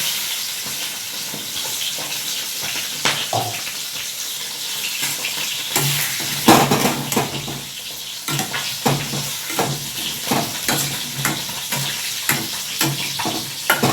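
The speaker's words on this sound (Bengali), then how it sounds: "এটা ভালো করে আমার কষাতে হবে।" Cauliflower florets frying in a pan with turmeric and a ground spice paste, stirred with repeated scraping strokes over a constant close sizzle, growing busier toward the end.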